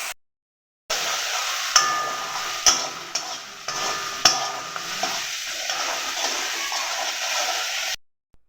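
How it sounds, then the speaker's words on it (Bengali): Spice paste with salt and chopped tomato stir-fries in oil for koi fish curry, hissing steadily while a utensil scrapes and knocks against the pan several times, close and fairly loud, with no voices. "নুন এবং টমেটো কুচি দেওয়ার পরে মশলাটাকে আরও 2 থেকে 3 মিনিটের জন্য কষিয়ে নেব।"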